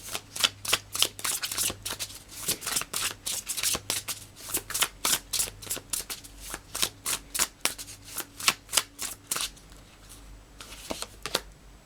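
Tarot cards are shuffled for a card draw, a long series of crisp riffling bursts in a steady, fairly quick rhythm that stays close and clear, thinning out toward the end.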